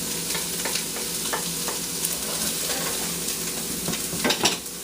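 Chopped vegetables for jambalaya sweat in a hot pan, giving a steady soft sizzle with a few stirring scrapes and clicks, close up and without talk.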